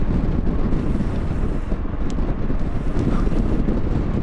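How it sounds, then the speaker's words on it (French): A strong headwind roars across the microphone during a mountain bike ride in hot high country, a constant loud buffeting rush with no letup. "avec un vent de face terrible."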